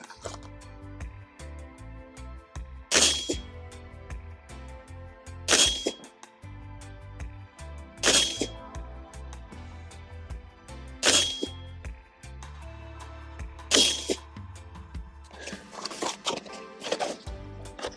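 A Geissele AR-15 rifle firing Norma .223 69-grain target rounds, five sharp, spaced shots with ringing echoes, then a clatter at the end.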